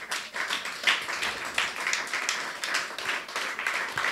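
A church congregation applauds during a worship service, a dense, even wash of many hands clapping at moderate distance, steady throughout with no speech over it.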